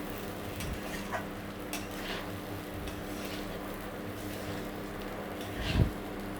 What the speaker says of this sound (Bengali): কাজু কিশমিশটা দিয়ে একটু মিশিয়ে নিচ্ছি।